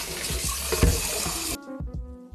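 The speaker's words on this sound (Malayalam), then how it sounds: "വെള്ളം പിടിക്കാം." Tap water runs into a vessel while fish pickle is being prepared in a home kitchen, a steady rushing pour for about a second and a half that then cuts off, leaving faint clinks.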